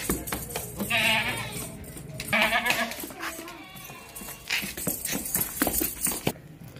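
A healthy goat in a livestock market bleats several times at close range, with hoof clatter and other farm animals mixed in.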